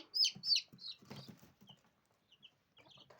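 Young chicks cluck and cheep softly close by in a quiet farmyard, giving a few short, faint calls with pauses between them.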